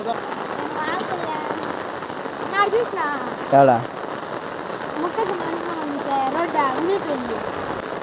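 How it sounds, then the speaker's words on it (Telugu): Heavy cyclone rain pours down steadily in a dense, continuous hiss, with voices talking over it throughout. "అమ్మా జోరు వాన పడుతుంది జోరుగా"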